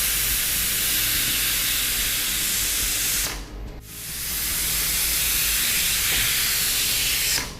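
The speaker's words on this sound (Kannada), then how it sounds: "ಈಗ 2 ವಿಜಿಲ್ ಆಗಿದೆ" A pressure cooker on a stove, cooking pumpkin for soup, lets off a loud, steady jet of hissing steam that cuts out briefly for about half a second, then returns just as strong and carries on until the end.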